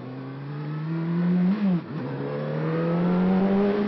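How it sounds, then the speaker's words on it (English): A 2013 Honda CBR600RR motorcycle engine on a test ride revving steadily, pitch climbing, dipping sharply at a gear change, then rising again, heard close and loud with no talking. "I'll change gear and I whack the throttle back, and it's a very gradual to get up to where it needs to be to give you that burst of speed"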